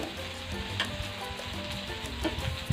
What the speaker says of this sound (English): this is the joy of having your own barbecue in front of you